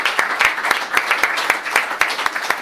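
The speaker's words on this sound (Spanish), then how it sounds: "si queréis le damos un aplauso al ponente" An audience applauds a speaker at a talk, with steady scattered clapping from a modest crowd, close and fairly loud throughout.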